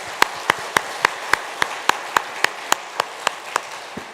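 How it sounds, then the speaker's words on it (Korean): A church congregation at Sunday worship claps in unison to welcome new teachers, giving a steady series of sharp, evenly spaced claps, about four per second, that sound together without voices. "여러분 다시 한번 환영과 격려 박수 해주시기 바랍니다"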